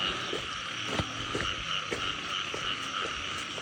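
A chorus of frogs croaks in a rice field at night, with repeated sharp croaks sounding near and close together over a constant high-pitched buzz of insects and other frogs.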